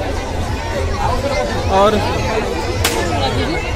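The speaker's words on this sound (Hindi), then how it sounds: "इतना भीड़ है" Dense crowd babble at a Durga Puja pandal in Rourkela, a constant close hubbub of many overlapping voices, with one brief sharp crackle partway through and a single spoken word.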